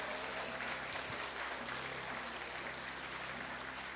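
Church congregation applauding, a steady, faint wash of clapping from a gathered crowd lasting several seconds with no clear individual claps standing out.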